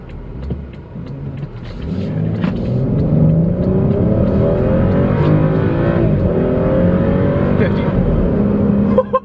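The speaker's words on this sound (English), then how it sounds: "I could hear the turbos engage" A turbocharged 2017 BMW X5 35 M Sport roars steadily as it accelerates hard, a rising growl with rumbling undertones and a brief sharp burst near the end.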